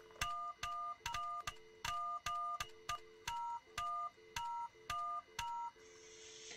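Telephone number dialed in the office-worker job of the VR game Job Simulator: a rapid string of about a dozen clear two-tone keypad beeps in an uneven rhythm, fairly loud and close, ending with a brief burst of hiss.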